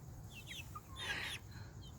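Backyard hens in a city coop clucking in short, scattered calls with a brief burst of louder squawking in the middle, close by over a low rumbling background.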